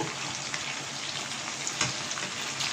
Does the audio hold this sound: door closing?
no